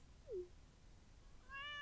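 A cat in the Stardew Valley farm game gives a short, quiet meow, then after a pause a longer, clearer meow over soft ambient background.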